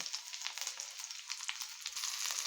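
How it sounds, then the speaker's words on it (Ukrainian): Patties of minced meat called bear paws sizzle in a hot pan, a steady faint crackle of frying oil with small pops and no talking. "Підрум'янивши наші лапи до золотистої корочки, перевернула їх на іншу сторону"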